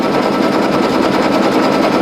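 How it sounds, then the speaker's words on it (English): A Brother single-needle embroidery machine stitching a towel, a loud close continuous rapid mechanical chatter with an even fast rhythm and no pauses. "I'll just go ahead and let it stitch and we'll see what happens."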